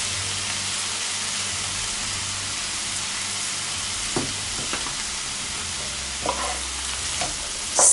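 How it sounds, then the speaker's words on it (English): A vegan dish frying in sesame oil in a pan gives a constant close hiss of sizzling, broken by a few soft scrapes and knocks of a utensil stirring it. "give it a good stir"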